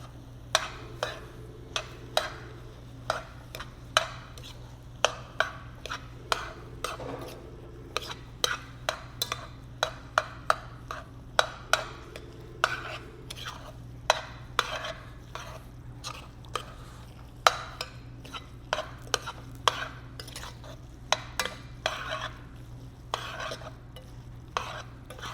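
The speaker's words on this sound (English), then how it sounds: "And now we'll give that a mix." Spoon stirring a thick baked bean mixture with Italian seasoning and onion powder, a long run of close, irregular scraping and tapping knocks against the pot over a low hum, with no talking.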